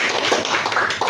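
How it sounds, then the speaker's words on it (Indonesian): A church congregation claps for Jesus, a dense, lively patter of many hands close by, with no voices over it. "Tepuk tangan buat Tuhan Yesus."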